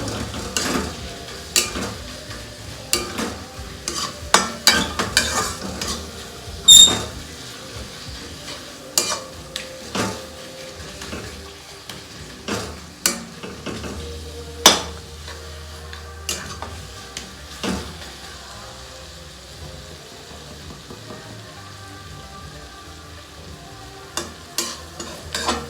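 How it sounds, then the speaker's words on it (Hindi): Tomato masala frying in a pan and being stirred, with repeated scraping clinks of the spoon against the pan over a soft, steady sizzle. No one speaks. "इसको हम चलाते रहने का है ताकि नीचे मसाला स्टिक ना हो"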